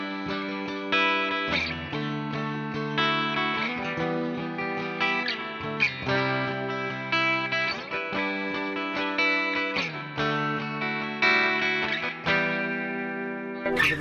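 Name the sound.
Squier Stratocaster electric guitar played on the bridge pickup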